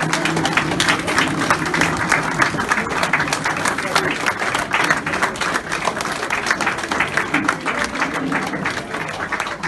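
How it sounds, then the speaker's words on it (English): A conference audience gives author Ejaz Bhalloo a standing ovation at his book launch, with dense, continuous clapping filling the room alongside crowd chatter and voices throughout. "now we're giving him a standing ovation"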